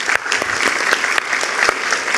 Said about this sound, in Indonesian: Oke, kita berikan tepuk tangan dulu.